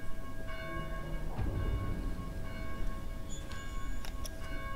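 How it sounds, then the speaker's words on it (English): Bells ring in the Dead Island: Definitive Edition video game, with clanging tolls and lingering resonant tones repeating through a busy ambient background, fairly close and without speech. "Maybe you can figure out how to silence those blasted bells."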